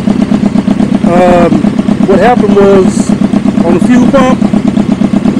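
A Suzuki GSX-R 750 motorcycle engine, recently revived after a stuck fuel pump, runs at a steady close idle with loud, even pulsing throughout, while someone talks over it.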